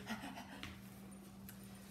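A dog pants quickly and rhythmically, close by and fairly quiet, under a steady low hum.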